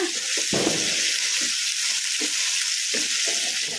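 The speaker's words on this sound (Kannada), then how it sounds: "ಒಂದೆರಡು ನಿಮಿಷ ಹೈ ಫ್ಲೇಮಲ್ಲಿ ಫ್ರೈ ಮಾಡ್ಕೊಂಬಿಡೋಣ" Beetroot pieces fry hard in a pan over a high flame, a steady loud sizzle running throughout with intermittent scraping bursts as the mixture is stirred.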